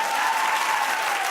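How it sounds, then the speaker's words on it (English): Audience clapping at a comedy show, a brief, steady burst of applause from a crowd, loud and even throughout with no pause. "Clap if you're that girl."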